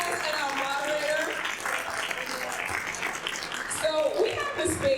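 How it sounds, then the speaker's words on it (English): Audience applause for panelists and a moderator at a community talk event, a dense steady wash of clapping filling the room, with voices and a few laughs mixed in. "can we give a round of applause to our panelists and our moderator?"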